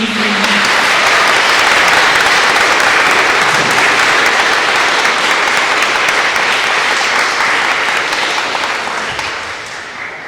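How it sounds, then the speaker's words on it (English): Loud, sustained applause from a large crowd, dense clapping and cheering that holds steady before tapering slightly at the end. "Can we get another applause for the Queen?"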